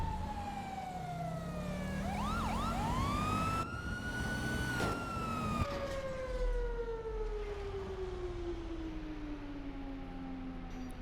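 Police car siren in GTA 5, wailing with sweeping rising and falling tones over engine rumble, loud and close, with a pitch drop as it shifts partway through.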